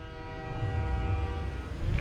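A freight train carrying coal wagons rumbles past, a steady, deep low rolling drone with faint tonal overtones that stays close and fairly loud throughout.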